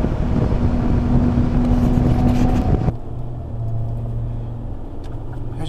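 A tow truck driving at about 50 to 55 mph on the highway, a steady loud road and engine roar with wind rush that drops to a lower drone partway through.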